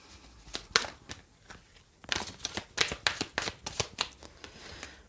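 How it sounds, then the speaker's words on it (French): Tarot cards being shuffled for a reading, a run of crisp riffling bursts and slaps in quick irregular rhythm, close and fairly quiet, with no voice. "On va refaire un tout petit tirage en demandant"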